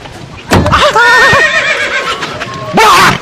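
A horse whinnies loudly nearby in a long wavering neigh, then begins a second neigh at the end, with a short thump beforehand.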